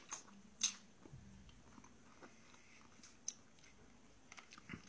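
Bites into a crisp homemade Polish sour pickled cucumber: one sharp crunch near the start, then faint chewing and small crunches, quiet and close, with no talking.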